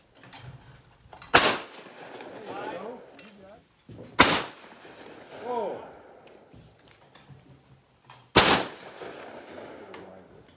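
Three loud, sharp gunshots ring out a few seconds apart at a Winchester shooting range, with casual talk and shouts between the reports.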